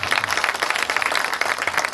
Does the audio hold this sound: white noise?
no